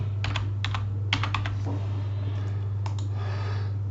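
Keys on a computer keyboard tap in short, close clusters while text is entered in AutoCAD, with small gaps between bursts over a steady low electrical hum.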